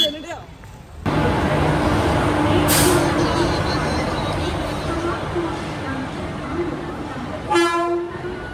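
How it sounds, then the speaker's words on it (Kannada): A departing train rumbles steadily nearby with a hiss of air brakes and a horn blast near the end, voices faint in the background. "ಟ್ರೈನ್ ಹೊರಟಾಗ್ತಿದೆ ಅದಕ್ಕೆ ಬೇಗ ಹೋಗಬೇಕು"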